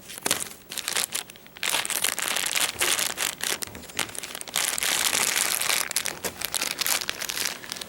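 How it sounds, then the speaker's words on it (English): Scissors cut open the plastic bag around a memory foam mattress: steady crinkling and crunching of plastic sheeting with short snipping bursts, close up and continuous for several seconds. "I would just take some scissors and carefully go ahead and cut it along"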